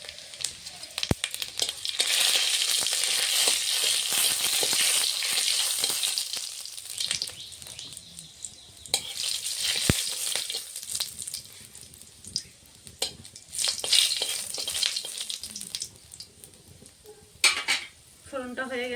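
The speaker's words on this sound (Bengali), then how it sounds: "এখন তেলটা গরম হয়ে গেছে, আমি ফোড়নে দেবো একটা শুকনো লঙ্কা," Dry red chilli and panch phoron crackle and sizzle in a little hot oil as a tempering for a bottle gourd leaf and potato curry, with a steady loud hiss broken by a few sharp utensil clinks.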